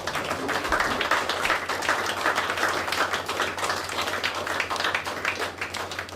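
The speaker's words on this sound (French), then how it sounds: "Je vous demande donc d'applaudir le Père." An audience applauds at the inauguration of a school library, giving a continuous, even crackle of many hands clapping, moderately loud and heard from the room without talk over it.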